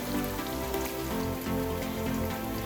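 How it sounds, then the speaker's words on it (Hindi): Onions frying in a pan give a steady, even sizzle and crackle, close and moderately quiet, with no voices over it. "प्याज फ्राई होने में थोड़ा सा टाइम लगेगा।"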